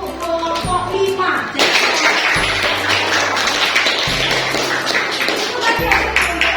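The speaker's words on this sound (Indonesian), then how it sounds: "Beri tepuk tangan untuk kelompok 5." A classroom group claps for group 5, a dense burst of applause that starts after a brief pause and runs steadily to the end, with low voices and tapping underneath.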